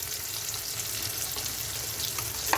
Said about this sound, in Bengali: পেঁয়াজ কুচানো যেটা নিয়েছি আমি, 2-3টের মতো পেঁয়াজ কুচনো, একটু লবণ দিয়ে দিলাম